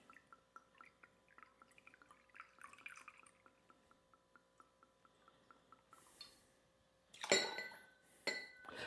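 Flor de Caña 12-year blended aged rum, 1.5 ounces, is poured into a cocktail shaker. Faint, quick dripping trickles run for several seconds, followed by a couple of louder glassy clinks and knocks near the end.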